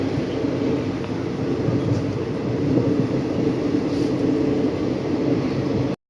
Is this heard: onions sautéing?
no